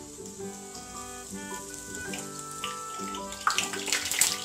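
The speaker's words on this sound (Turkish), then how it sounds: "Şimdi diğer böreğimizi atıyoruz." Yufka börek frying in hot oil, a soft steady sizzle that rises into brighter crackling toward the end, with a melodic tone running through it.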